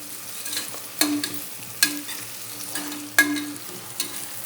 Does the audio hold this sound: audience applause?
no